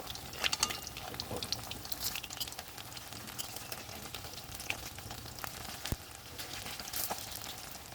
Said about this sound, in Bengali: সাবুর পকোড়াগুলো ভালোভাবে ভাজা হয়ে গেছে